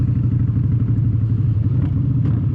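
A motorcycle engine hums steadily and loudly with a low, even throb and faint clatter, held close and constant without breaks.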